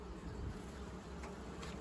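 Honey bees hum steadily inside a full hive while a colony is moved from a horizontal hive into a new one, a close, continuous, even buzz with no break.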